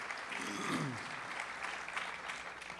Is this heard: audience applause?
yes